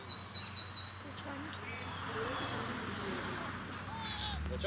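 A baby bird chirps in short high tweets over steady outdoor background noise, with a few other bird calls around it and voices talking nearby.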